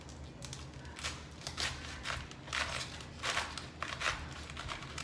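A knife slicing through a head of cabbage on a board, a series of soft crunchy cuts repeating at a slow, uneven rhythm over a low background hum, close and fairly quiet with no talking.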